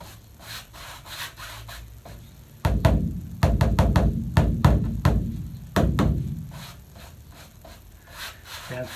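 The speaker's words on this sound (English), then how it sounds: "Love listening to the sound of a fresh canvas. It's always got that beautiful drum," A freshly stretched linen canvas is tapped, giving dull, drum-like thuds in quick, uneven clusters, with softer taps at first and then a louder series close by.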